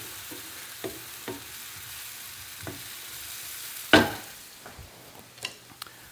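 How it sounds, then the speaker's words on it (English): Mushrooms sautéing in a pan for chicken in wine sauce: a quiet, steady sizzle broken by scattered taps and scrapes, with one louder clatter midway, no talk. "our mushrooms should take around 5 minutes or so to cook"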